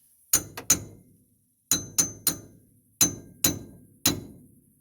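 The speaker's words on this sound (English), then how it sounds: "This is a hammer." A hammer strikes new U-bolts on the rear leaf springs of a 2001 Ford F250 Super Duty. Eight sharp, ringing metallic blows land in quick clusters of two or three, with quiet gaps between them.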